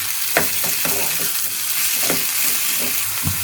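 Onions sauté in a pan until brown, a loud continuous sizzle close by, broken by repeated scraping stirs at an uneven rhythm.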